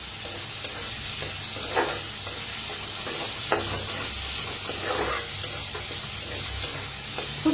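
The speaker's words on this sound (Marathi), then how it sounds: "त्याच्यातच टाकूया कढीपत्ता।" Curry leaves tossed into hot oil with finely chopped frying onion make a close, steady sizzle and hiss, with occasional stirring scrapes and no talk.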